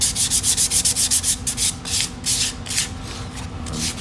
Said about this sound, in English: we're putting a finer sand finish on it